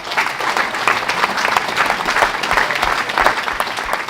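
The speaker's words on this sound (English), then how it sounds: "can you just have a round of applause for Jim McNulty?" Sustained, loud applause from the audience at a Rochdale AFC fans' forum, a dense, even wash of many hands clapping throughout.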